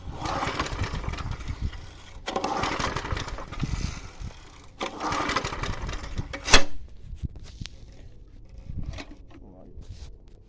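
Vintage Hayterette petrol lawnmower with a 3.5HP Briggs and Stratton engine being started, several bursts of rough cranking and sputtering separated by pauses, close and loud, with brief rattles and knocks between attempts.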